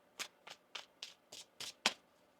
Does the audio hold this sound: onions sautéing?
no